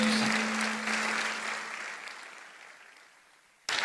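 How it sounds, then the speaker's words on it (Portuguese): Church congregation applauding during a service, a broad steady clapping wash that slowly fades before a brief renewed burst at the end. "Vamos aplaudir ao Senhor"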